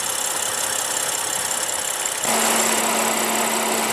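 A 2015 BMW 535i with a 3.0 L turbocharged inline-six idling: a faint steady hum under broadband noise that suddenly shifts into a louder, even drone with a clear low tone, holding smooth to the end.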